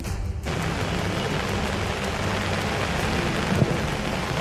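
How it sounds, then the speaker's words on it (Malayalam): Heavy monsoon rain in Kannur, a dense steady hiss of rain falling on surfaces, continuous and fairly loud with no voices. "ഇന്നിപ്പോഴും ആ കനത്ത മഴ തുടർന്നുകൊണ്ടിരിക്കുകയാണ്."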